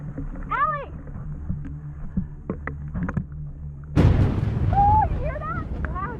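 Thunder from a close lightning storm, heard while people shelter in a cave. A sudden loud, broadband crack and rumble breaks in partway through and rolls on, after a quieter stretch with voices and small sounds.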